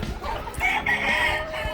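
A fighting rooster crows once, close and loud, on a farm, with a short clucking note around it.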